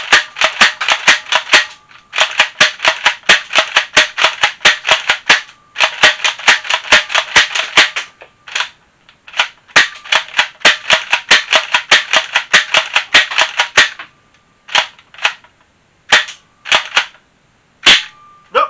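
Adventure Force Villainator toy blaster slam firing in rapid bursts, sharp plastic snaps coming in quick runs with short pauses between them, then slowing to scattered single shots near the end, loud and close with no talking.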